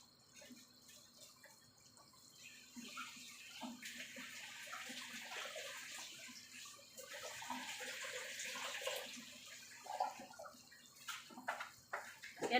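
Duck meat is washed under a running tap, giving soft, steady trickling and splashing with brief drips and clatters. The sounds are quiet and close and grow busier toward the end.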